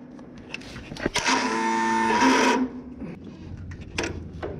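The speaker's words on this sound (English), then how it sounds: "I'm going to be showing you what happens if your starter doesn't engage like this" A riding lawn mower's starter fails to engage, giving a single loud grinding, whirring rasp of about one and a half seconds, up close, with short clicks and knocks before and after.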